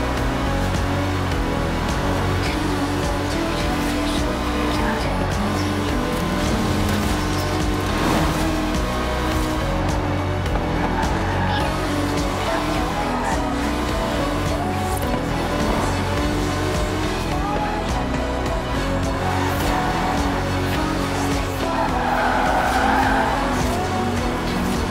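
Aston Martin DB5 Vantage, a 1960s British grand tourer with side-draft carburettors, driven in Forza Horizon 4: a steady, loud engine drone runs the whole time with tire squeal and skidding noise layered on top.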